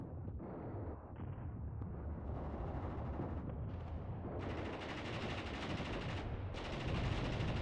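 Dense battlefield gunfire from the Mius Front war game: machine gun bursts and artillery thuds rolling continuously, loud and layered, with heavier rattling swells toward the end and no talk.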